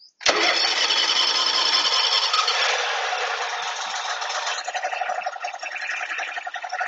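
A big zero-turn lawn mower engine, jump-started from a 12-volt Avapow battery pack with a little choke, cranks and catches suddenly, then settles into a loud rattling run that smooths toward a steady idle.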